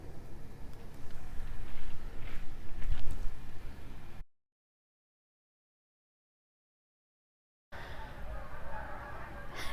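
Distant geese honking as a flock passes, noisy outdoor background, the sound cutting out briefly before resuming.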